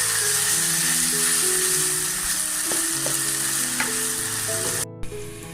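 Loud, continuous sizzling of bitter gourd (karela) frying in a pan, with occasional stirring clinks, then a brief cutoff near the end.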